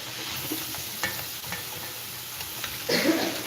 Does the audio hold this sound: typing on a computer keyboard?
no